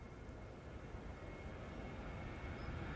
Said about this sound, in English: Right now on the roll, 737-800.